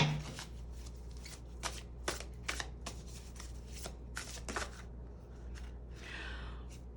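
A deck of tarot cards being shuffled up close, a run of quick riffling flutters and soft slaps in an uneven rhythm, ending in a longer ruffle, with no talking.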